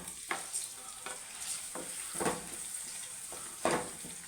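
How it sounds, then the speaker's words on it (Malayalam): Green chillies dropped into browned onion frying in a pan for a Kerala-style egg curry, a soft steady sizzle punctuated by several louder stirring scrapes, close but fairly quiet. "നമുക്ക് അതിനകത്തോട്ട് ഈ പച്ചമുളക് അങ്ങിടാം."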